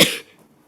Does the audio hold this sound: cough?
yes